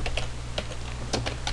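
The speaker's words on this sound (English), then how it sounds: "then you just type in your comment." Computer keyboard keys tapped in short irregular bursts while a comment is typed into an Excel 2007 spreadsheet, close and fairly quiet over a steady low electrical hum, no talking.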